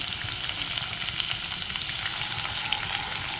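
Chopped garlic and a small piece of ginger fry in sunflower oil in a pan, making a steady, dense sizzle that runs close and unbroken throughout, with no talking.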